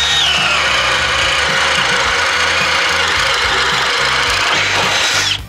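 A Milwaukee cordless drill drives a 3/4-inch Diablo Speed Demon self-feeding bit into wood, giving a loud, continuous, close-up whir and grind that holds steady before spinning down at the end.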